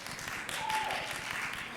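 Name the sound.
audience applause at workshop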